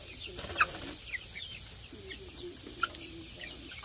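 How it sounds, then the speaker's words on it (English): Two-month-old Bielefelder chickens in a coop, thirteen hens and two roosters, make soft scattered clucks and a few sharper chirps, faint and low against quiet background hiss. "Pretty chickens."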